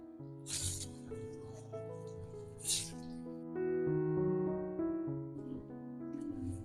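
Vada batter patties are dropped into hot oil for a festival prasadam, giving two sharp bursts of sizzling hiss that settle into steady frying. Sustained tonal background music plays underneath.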